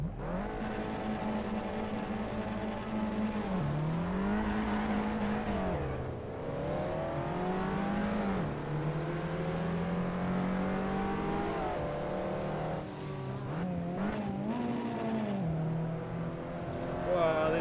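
A race car engine in the Assetto Corsa racing game revving up and down through repeated gear changes, a loud, steady whine that rises, drops and climbs again at close range.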